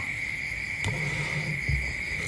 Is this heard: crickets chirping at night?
yes